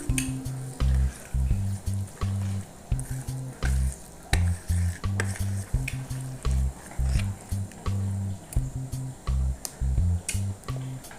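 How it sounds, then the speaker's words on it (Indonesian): Mini omelette batter of egg and rice flour fries in a pan with a soft, steady sizzle, broken by a regular pattern of low pulsing thumps. "Langsung kita goreng ya Bunda."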